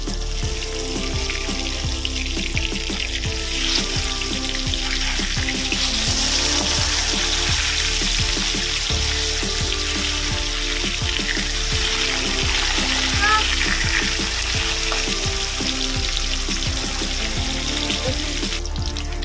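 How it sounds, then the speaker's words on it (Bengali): Loud, continuous crackling sizzle of katla fish frying in hot oil, with steady bubbling and spattering throughout and no voices. "মাছের দুই দিকটাই ভাজা হয়ে গেছে"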